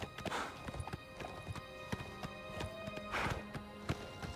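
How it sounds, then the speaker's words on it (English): Horse hooves in Oblivion Remastered clip-clopping in an uneven galloping rhythm, with sharp close thuds and a couple of snorting breaths, at moderate volume with no speech. "Got my horsey."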